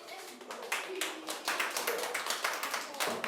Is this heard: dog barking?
no